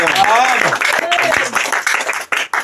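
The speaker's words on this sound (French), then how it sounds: "Acclamons tous pour Jésus." A church congregation claps and cheers during worship, a loud wash of applause mixed with voices and shouts that thins out toward the end.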